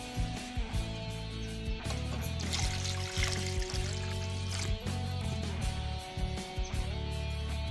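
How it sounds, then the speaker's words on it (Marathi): Pieces of cut eggplant are dropped into water, giving repeated soft plops and splashes against a steady background hum, close and fairly quiet. "तर हे वांगे चिरीते पाण्यात टाकीते"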